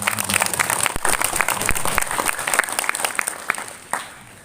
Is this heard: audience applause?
yes